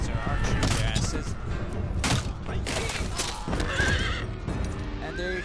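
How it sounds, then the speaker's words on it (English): Cavalry horses charge across a battlefield in the strategy game Shogun 2 Total War, with loud whinnies and clattering hooves layered over constant battle noise while a voice talks over it. "so they're charging with their cavalry."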